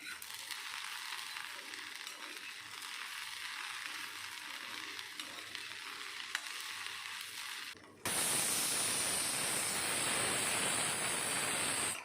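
Chopped okra sautéing in a pan, a steady broadband frying hiss with a soft stirring texture, shifting after a brief break into a brighter, louder sizzle, with no talking.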